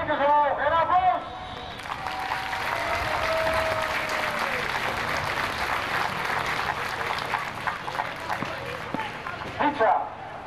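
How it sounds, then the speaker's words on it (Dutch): Crowd applause at a motorsport grasstrack race prize ceremony in Stadskanaal, sustained clapping from a sizeable crowd outdoors, with a voice speaking over the start and other voices around it. "En applaus!"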